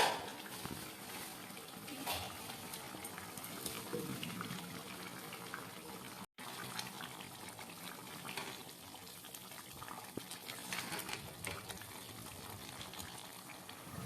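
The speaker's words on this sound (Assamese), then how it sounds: "পেষ্টখিনি উতল আহিব ধৰিছে।" Masala paste for chicken curry bubbles steadily in a pan, a continuous soft crackle and simmer that runs throughout, with a brief gap partway through.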